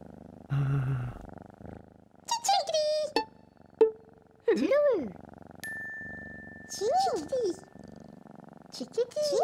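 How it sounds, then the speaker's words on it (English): A cat in a bedroom purrs in a children's cartoon, and the low rumble runs under a voice, chimes and other playful cartoon sounds. "It's a cat in a bedroom."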